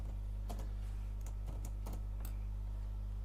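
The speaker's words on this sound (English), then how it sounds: "Let me type 2." Computer keyboard typing, a handful of light, irregular key clicks close by over a steady low electrical hum, with no talking.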